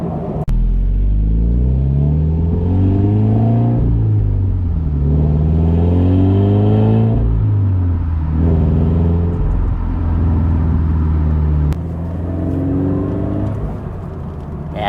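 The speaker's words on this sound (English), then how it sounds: "I love the sound of a Boxer engine" A modified Toyota GT86's boxer engine revs up and down repeatedly, its deep rumbling tone rising and falling in pitch, loud and close, with no talking.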